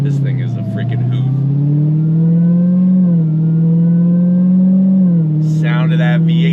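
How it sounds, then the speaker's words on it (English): A Dodge Challenger Demon V8 rumbles loudly and close, its engine note climbing and settling through a few rev swells, with brief voice fragments over the top near the start and end. "Sound of that V8. No sound being pumped in through the speakers."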